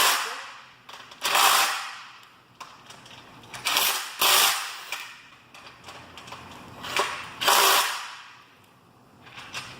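A power tool tightens bolts on a metal trailer tongue plate in short repeated bursts, each a sharp whirring rattle, with quiet gaps and light handling noise between them.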